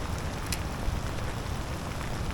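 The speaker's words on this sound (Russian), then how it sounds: "Пошел дождь сильный." Heavy rain pours down steadily, a dense, continuous hiss and patter close by, with no voices.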